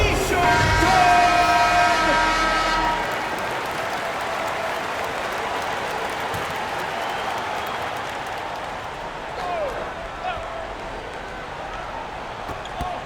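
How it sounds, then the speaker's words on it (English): Crowd in a basketball arena at a Gilas Pilipinas vs Panevezys game cheers during a T-shirt time break: a loud burst of cheering and applause with horn-like tones for about three seconds, then a steady, softer crowd roar. "Fans, get on your feet and make some noise for T-shirt time!"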